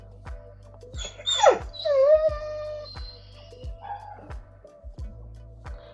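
Two dogs whimpering and whining indoors in a quiet room, rising high-pitched cries and a drawn-out moaning whine up close, with softer whimpers after and a faint ticking rhythm underneath.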